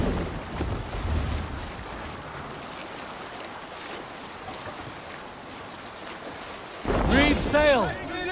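Wooden sailing ship under sail on open water in Assassin's Creed Valhalla, steady wind and sea wash rolling along continuously, with a brief swell of louder splashing and creaking near the end.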